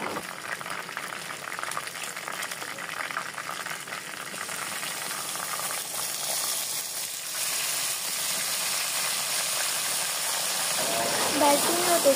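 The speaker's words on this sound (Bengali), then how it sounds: "দারচিনি ও তেজপাতা দিয়ে খুব ভালো মতো ভেজে নিতে হবে জিরার সাথে।" Cinnamon, bay leaves and cumin frying in oil in a wok for chicken korma, a steady hissing sizzle that runs throughout and grows slightly louder near the end.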